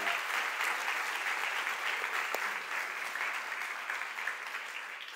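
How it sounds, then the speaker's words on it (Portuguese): Congregation applauding at a church congress service, a dense, steady wash of clapping from many hands that holds evenly throughout, loud and close with no pauses. "Pode aplaudir ao Senhor, queridos."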